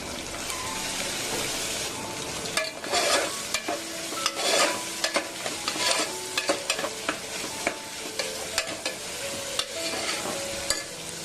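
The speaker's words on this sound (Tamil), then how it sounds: "ரெண்டு வெங்காயம் குட்டி குட்டியா சாப் பண்ணி எடுத்து வச்சிருக்கேன், அதையும் சேர்த்துட்டு நல்லா கோல்டன் ப்ரௌன் கலர் வர அளவுக்கு ஃப்ரை பண்ணி எடுத்துக்கலாம்" Onions frying in a pan toward golden brown, a constant bright sizzle punctuated by repeated spatula stirs and clacks against the pan, no talking.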